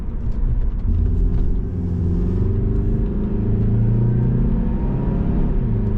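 A 200,000-mile Saab 9-5 with added sound deadening cruises on the road at about 60 mph, a steady, loud low engine and road drone heard from inside the cabin with slight shifts in engine note.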